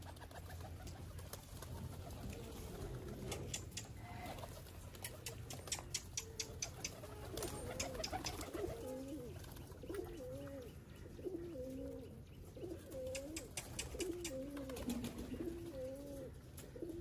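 Pigeons coo in a series of soft, repeated throaty calls through the second half, with light fluttering and shuffling, heard fairly close against a quiet background.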